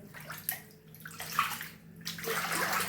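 Floodwater sloshing across a flooded kitchen floor inside a house: irregular splashing and swishing water movements, close and fairly soft, with brief pauses between surges.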